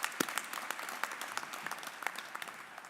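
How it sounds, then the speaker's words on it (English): Graduation audience at a University of South Carolina spring ceremony applauds the ROTC color guard, with steady dense clapping and a few sharper claps standing out throughout, fairly distant in a large hall. "How about giving them a round of applause?"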